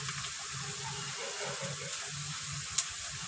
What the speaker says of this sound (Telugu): వాటర్ వేసుకుందామండి.